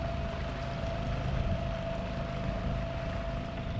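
A low, steady outboard motor on a sailboat drones continuously with a faint tonal whine, mixed with wind rumble, no voices.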